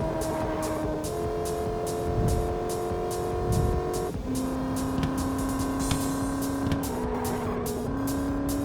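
A racing car in the roguelite street-racing game Driving Rogue holds a steady high engine whine, with gear shifts and tire squeal as it drifts, sustained and close with no talk.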